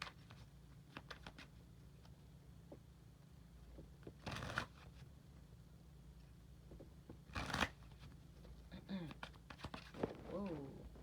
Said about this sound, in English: I'm gonna get one card from my deck.